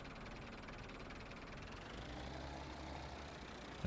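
Engine of a Massey Ferguson 390T tractor idles in the video game Farming Simulator 17, a quiet steady low rumble with a slight knocking pulse, heard alone.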